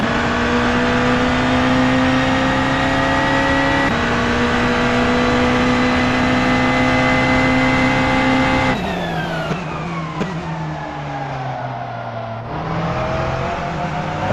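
A GT3 race car engine drones loud and steady on the straight during an SRO championship round, its pitch sliding down sharply near the end as it lifts and shifts, with no voices over it.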